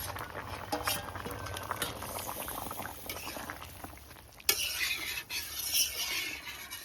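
A Bengali fish curry with pieces of thick-skinned magur catfish simmers in a pot, giving a steady close bubbling and popping. One sharper burst comes partway through, with no voices.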